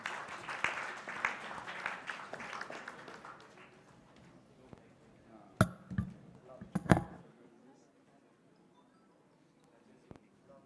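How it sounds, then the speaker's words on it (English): An audience at a hackathon showdown applauds a presenting team with a burst of clapping that swells at first, then thins into scattered claps and fades to near quiet, with a few sharp knocks near the end. "So please give a round of applause for Developer Brothers."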